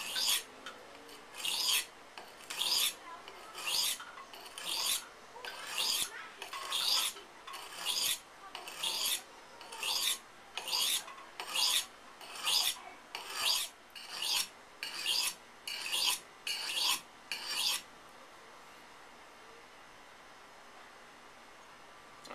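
A knife edge being sharpened in about seventeen regular, evenly spaced rasping strokes, close and crisp, followed by several seconds of quiet, with no talking.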